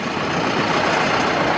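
A tractor engine drones loud and steady on a cool, windy farm day, a dense continuous rumble with no pauses and no voices over it.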